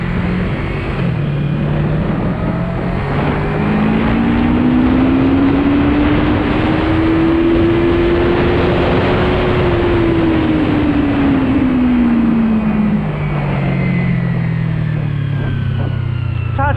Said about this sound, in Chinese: 321的这个发动机，我觉得震动控制的比500叉跟525叉都要好